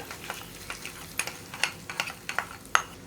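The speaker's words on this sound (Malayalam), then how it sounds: "അപ്പോൾ നമ്മുടെ വറവ് നമ്മൾ കറിയിലേക്ക് ചേർക്കുകയാണ്" A spiced tempering is tipped into a pan of onion-and-tomato salad curry and stirred, giving a steady run of light clinks, scrapes and soft sizzle-like crackles close by, with no one talking.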